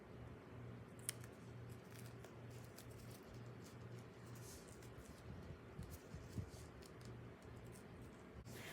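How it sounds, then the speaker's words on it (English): Repeated short snips of scissors cutting through the fabric seams of a doll outfit, close and steady, over a low continuous background hum. "Take your scissors or seam rippers and take apart the seams."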